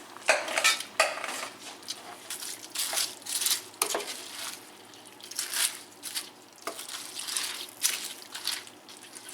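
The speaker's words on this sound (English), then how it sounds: "I'm gonna shake about half of this pan into my pan. And I'm gonna mix it up." Tater tots are shaken from one pan into another and stirred, producing clattering scrapes and metallic knocks of utensil against pan in irregular bursts with quieter rustling between.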